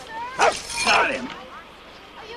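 A dog in a 1986 family film gives a couple of sharp yips and a whimpering whine, close and moderately loud, with brief voices around it.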